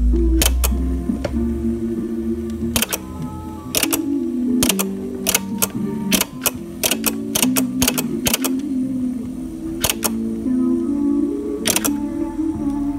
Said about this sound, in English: when I change the track how this thing works, the flywheel kicks the solenoid over